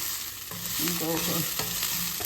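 Bitter gourd pieces are stirred and fried with jaggery, the spatula scraping rhythmically through a close, continuous sizzle.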